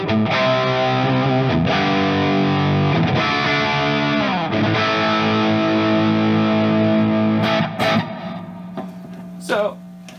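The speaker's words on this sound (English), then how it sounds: "I've got another reverb and delay pedal that I stack after that" Electric guitar through a pedal-platform amplifier with stacked reverb and delay pedals, sustained distorted chords ringing loud and close with shimmering wash and trailing repeats, then a quieter pick near the end.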